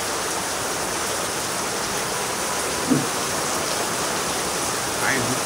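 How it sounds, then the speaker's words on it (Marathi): Heavy monsoon rain pours steadily over farm fields in rural Konkan, a dense continuous hiss throughout with a couple of brief nearby knocks. "पाऊस काय कमी होत नाही"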